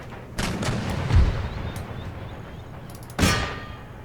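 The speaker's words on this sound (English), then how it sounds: "Let's give these a little bit of a barrage here." Artillery barrage in the video game Empire: Total War, two booming cannon blasts with ringing metallic echoes, separated by a rumbling gap, fairly loud.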